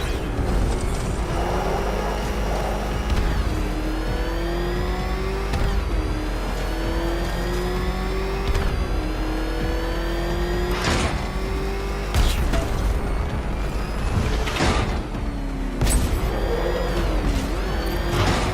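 A Batmobile engine in Batman: Arkham Knight roars and revs continuously at close range, its pitch rising and falling in repeated surges and shifts, with bursts of mechanical clatter and impacts breaking through.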